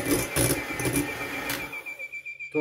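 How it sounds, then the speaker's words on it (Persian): An electric mixer whirs through sponge cake batter, a busy buzzing motor with rattling beaters that drops to a quieter, pulsing whine near the end, with no talking. "خب با میکسر میزنیم ایرو."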